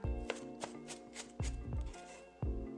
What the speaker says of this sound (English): I started by chopping up some green onions, and then mincing a can of water chestnuts.